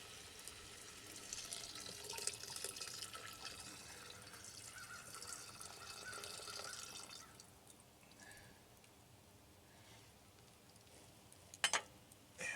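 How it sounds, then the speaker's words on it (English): Two cups of chicken broth are poured into a cooking pot, making a steady liquid splashing that runs for several seconds and then tapers off, followed by a brief clink near the end. "so I'm going to add 2 cups of chicken broth"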